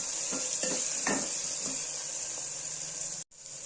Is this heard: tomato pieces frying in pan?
yes